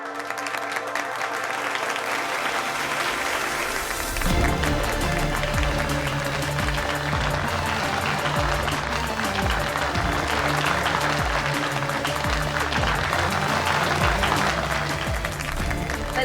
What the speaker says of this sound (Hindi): सरदारनी कमलदीप कौर सिद्धू जी के लिए तालियां